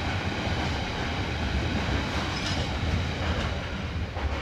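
Class 66 freight locomotive 66710 hauling a container train passes Lincoln Central station, a steady close roaring rumble of engine and rolling wagons with faint wheel clatter throughout.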